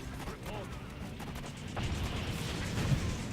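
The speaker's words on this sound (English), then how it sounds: "See, my artillery is firing a little bit right there." Artillery firing in Blitzkrieg 3, a World War II real-time strategy game, comes through as muffled low booms and rumbling thuds under constant battle noise, mid-distance and not very loud.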